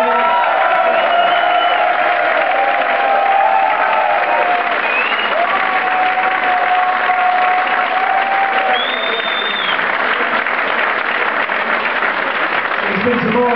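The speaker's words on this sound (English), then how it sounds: "Big round of applause for the winner tonight." An audience at a live music event gives a long, steady round of applause for the night's winner. Dense clapping and scattered cheers fill the clip without pause.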